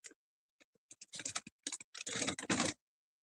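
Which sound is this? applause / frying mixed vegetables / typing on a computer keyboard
typing on a computer keyboard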